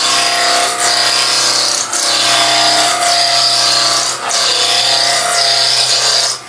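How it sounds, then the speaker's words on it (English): Wood lathe spinning while a tool cuts shavings from the turning piece, a loud steady motor hum with a rasping scrape that swells and fades in repeated passes, close by with no talking. "The lathe's still running"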